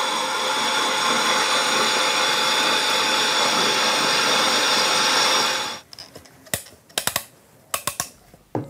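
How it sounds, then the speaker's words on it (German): A bearing is reamed out on a drilling machine, the spindle whirring steadily at high speed for several seconds before it stops, followed by a few sharp clicks and knocks of handling in a quiet room. "kommt an die Bohrmaschine und wird ausgerieben"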